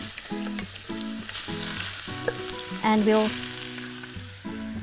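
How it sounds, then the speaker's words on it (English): Green pepper and zucchini strips sautéing in olive oil, a steady close sizzle and crackle with brief stirring clatter, and someone talking briefly over it. "let's just saute that in this olive oil and fresh"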